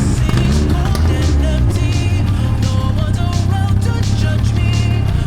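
A 1987 Honda CRX engine runs steadily as the car drives, a loud, constant motor drone with shifting tones and some rattling road noise.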